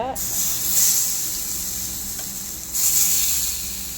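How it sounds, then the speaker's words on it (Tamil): Steady, loud sizzling of fish frying in hot oil, a broad hiss that swells slightly partway through. "நம்ம மீன் பொரிக்க போகிறோம்."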